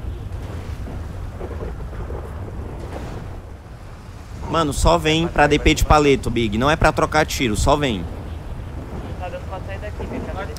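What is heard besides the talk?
rain in a video game (GTA roleplay)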